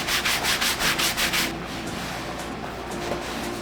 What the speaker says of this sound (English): I'm just gonna be using my soft bristle brush as well, giving it a light clean